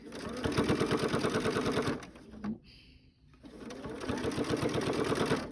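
Sewing machine stitching binding onto a quilt, running in steady rapid bursts with a pause in the middle before resuming at a close, even pace.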